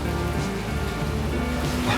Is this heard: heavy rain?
yes